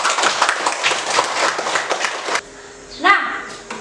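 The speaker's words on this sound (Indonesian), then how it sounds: "Tepuk tangan untuk Musa." A classroom of pupils claps for a fellow student named Musa, a dense, close burst of many hands that lasts a couple of seconds and then stops abruptly, followed by a brief voice.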